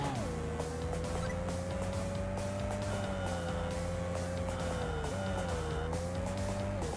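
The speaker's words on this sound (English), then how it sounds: "I've heard the tire squeal audio in this used in other games" Continuous tire squeal and engine whine from the racing video game Super Pixel Racers, a steady pitched screech dipping and rising with a brief break, over game music with a rhythmic beat.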